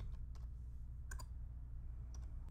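Quiet computer keyboard and mouse clicks while typing text into a table in Microsoft Word online, a handful of sparse, crisp taps spread irregularly over a low steady hum.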